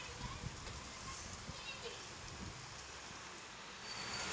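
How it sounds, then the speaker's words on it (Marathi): Heavy, steady rain pours down in a broad, even hiss that swells slightly near the end, with faint children's voices in the background. "कसला भारी तुफान पाऊस पडलाय"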